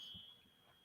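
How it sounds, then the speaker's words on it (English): Building fire alarms ring as a faint, steady high-pitched tone in the background, distant and continuous through the short moment. "you're hearing fire alarms"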